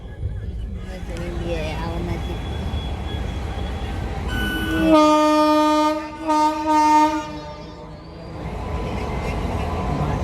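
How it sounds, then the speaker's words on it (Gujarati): A train rumbles past a level crossing nearby and sounds a long, loud horn in several blasts, while a voice briefly exclaims over the noise. "હવે ટ્રેન જો ગાઈ આ ટ્રેન આવે"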